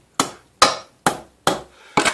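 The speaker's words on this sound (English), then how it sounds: "Now I'm going to hit that nail sideways" A heavy lump hammer strikes a nail sideways into a wooden desk organiser joint, five sharp, loud, evenly spaced blows with short ringing decays and no speech.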